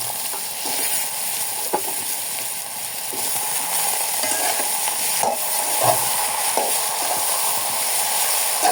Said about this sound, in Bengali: তেল গরম হয়ে গেছে, দিয়ে দেবো পেঁয়াজ, কাঁচামরিচ, এখন দিয়ে দেবো যে কাটা সবজিগুলো